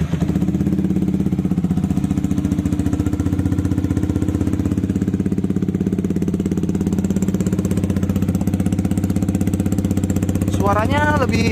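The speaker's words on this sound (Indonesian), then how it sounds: "kita coba nyalakan sekarang suaranya knalpot ini seperti apa ya teman-teman ya" Motorcycle engine fitted with a DOS aftermarket exhaust, running steadily at idle with a smooth, even, rapid pulsing throb that is loud and close throughout, with a short voice near the end.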